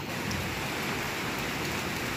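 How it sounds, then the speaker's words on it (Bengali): Steady rain pouring outside a window on a grey afternoon, a dense unbroken hiss of drops hitting surfaces, fairly loud and continuous with no voices. "অনেকক্ষণ থেকেই পড়ছে বৃষ্টিটা"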